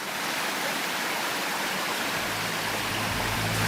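Stream of water flowing from a native forest, a steady broadband rush and splash, close and continuous, with a low hum rising near the end and no talk.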